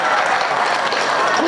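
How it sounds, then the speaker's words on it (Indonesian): A crowd at a large religious gathering in Simpang Raya, Kuansing, applauds in a dense, continuous wash of clapping, with voices mixed in. "Tepuk tangan nggak apa-apa,"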